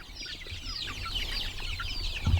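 One-month-old chicks outdoors on grass in an outdoor brooder, a steady chorus of soft, high peeping and clucking from several birds, continuous and fairly close, with a brief low thump near the end.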